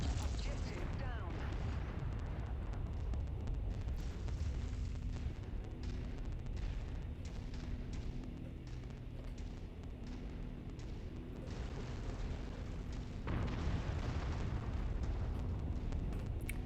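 MechWarrior 5: Mercenaries, a modded campaign game, with explosions destroying targets such as artillery platforms: heavy booms and blasts roll over continuous loud low-end rumble and combat noise, with bursts layered throughout.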